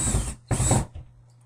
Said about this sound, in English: let the shaft of the screw gun damage the knob. And I'll tighten up the other side.